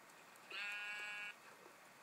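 A sheep bleats once in a Minecraft world with frozen sea and ice, a steady, wavering electronic-sounding bleat lasting under a second over quiet background.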